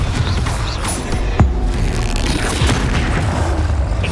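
A Confringo blast spell explodes in Hogwarts Legacy amid a steady, loud roar of combat effects, with one sharp impact standing out near the middle.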